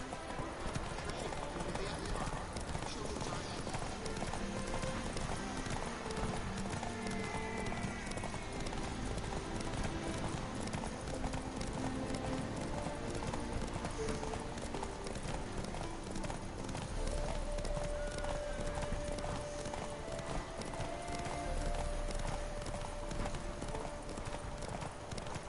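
A horse gallops in The Witcher 3 video game, with rapid, rhythmic hoofbeats that carry on throughout over a dense game soundtrack and ambience.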